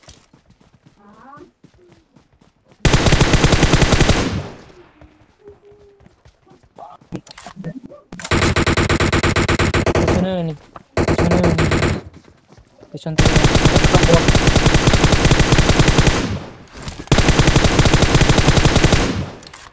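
Loud bursts of automatic gunfire from the Free Fire battle royale mobile game come in five long volleys, with someone talking between them.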